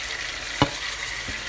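Garlic and anchovies fry in a pan with a steady soft sizzle, broken by two short scrapes or thumps of stirring, close and alone.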